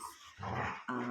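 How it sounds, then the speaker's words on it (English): Dogs growl and snarl in rough indoor play on a cold day, a close, short burst of guttural rumbling with a brief yip, and no talking. "And I will apologise for my dogs."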